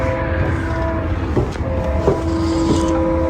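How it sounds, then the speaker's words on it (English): A train rolls through a town in the early morning, heard from a parking lot, as a steady low rumble with sustained tonal hum lines and a few clanks over about three seconds, with no voices. "The sounds of morning, a train going through town."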